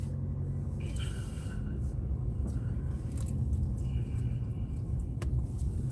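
Steady low engine rumble and road noise inside a moving car leaving a bank parking lot, continuous and fairly loud throughout, with a few faint clicks above it and no talking.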